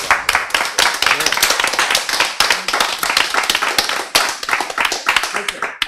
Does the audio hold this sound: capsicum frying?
no